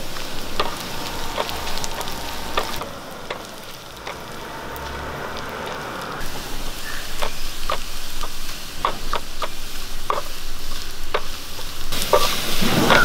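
Chopped shallots and four dried red chillies crackle and sizzle in hot oil for a tempering, a close, continuous frying hiss dotted with sharp pops and stirring scrapes throughout.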